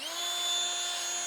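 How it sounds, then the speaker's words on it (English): A drill spinning an 800 grit sanding pad against a plastic Chevy Impala headlight lens, a steady high whine with a constant tone held for the whole stretch, close and alone. "Now the 800 grit is to remove the 500 grit scratches."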